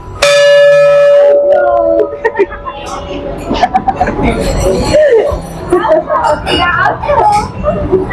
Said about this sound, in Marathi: तर आता आपण ही बेल वाजून बघूया कसा रिस्पॉन्स येतोय